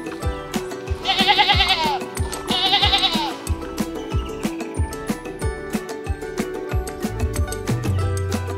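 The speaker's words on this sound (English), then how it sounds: "He fed the sheep and goats some good amount of grass." Goats and sheep bleat in two clear, loud bursts near the start amid steady farm background, being fed grass, with faint clanking and other livestock noises throughout.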